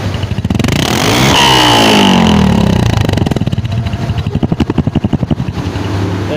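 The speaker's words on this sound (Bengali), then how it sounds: "এই মাত্র চলে আসলো Discover one thirty five original colour original sticker sound দেখেন" A Bajaj Discover 135 motorcycle in original condition runs close by, its single-cylinder engine revving up and down in rising and falling sweeps before settling into a rapid, lumpy idle thump.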